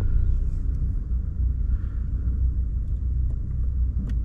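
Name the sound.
Toyota Glanza 2022 car switched on, engine running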